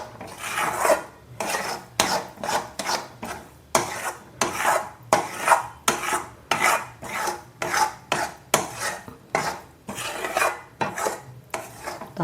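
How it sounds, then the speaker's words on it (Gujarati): Farali peanut sukhdi being stirred in a pan, a rhythmic series of scraping, rasping strokes of a spoon against metal, about two per second, close and steady with no talking. "આપણે એને બરાબર મિક્સ કરી લઈશું."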